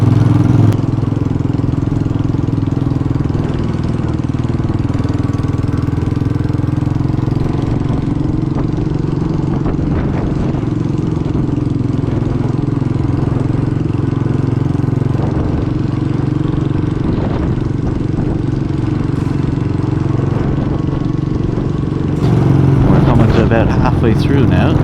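A Royal Enfield Bullet 500 motorcycle is ridden up a mountain road in Kerry, its steady mid-pitched engine drone continuous and close, mixed with wind buffeting.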